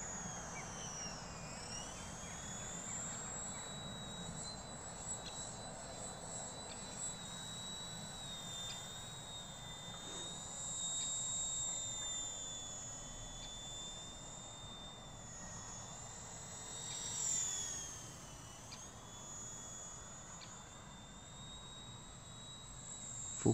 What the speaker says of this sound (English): It's a really nice flying heli, this one.